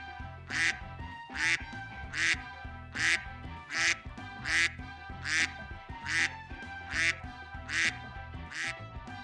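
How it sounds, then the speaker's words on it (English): Ducks quack in a steady series of about a dozen nasal calls, fairly regular in rhythm, over soft background music. "And now the sounds of ducks, accompanied by ill-fitting music."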